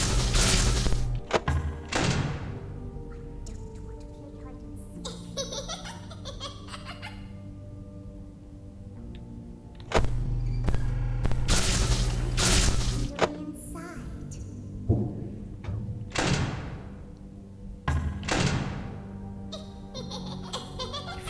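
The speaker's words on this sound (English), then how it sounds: "Big loud thud any second now." A heavy thud lands inside the horror video game Five Nights at Freddy's: Sister Location, one of several loud, booming impacts that burst out of a low, dark ambient drone at irregular intervals, with a voice talking in between.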